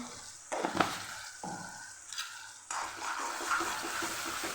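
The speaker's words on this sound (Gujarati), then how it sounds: "ટમેટાનું પાણી બરે ત્યાં સુધી આપણે આને મસાલાને સાથે સાતડી લેવાનો છે" Spice masala of red chilli powder, turmeric, coriander-cumin powder and salt sautéed with tomatoes in a pan for a potato curry made without garlic or onion: a steady close sizzle broken by a few louder bursts of stirring.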